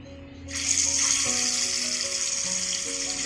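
Pieces of katla fish drop into hot oil and a bright, loud sizzle bursts up at once and keeps hissing steadily, close by, with faint background hum beneath.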